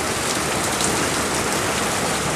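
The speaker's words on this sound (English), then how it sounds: "it's raining harder than ever" Heavy rain pours steadily during travels in Thailand, a dense, even hiss of drops hitting surfaces, loud and constant throughout with no talking.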